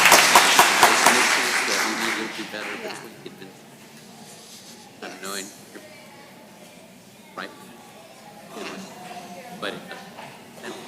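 Audience applause at a school district board meeting, loud and dense for the first two seconds, then tapering off into a quiet room with scattered shuffles and small knocks.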